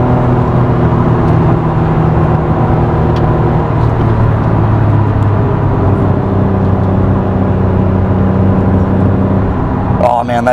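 A Honda NSX engine roars loud and continuous from inside the car, a dense throbbing drone that climbs toward 8,000 RPM with tonal whine layered over the road noise.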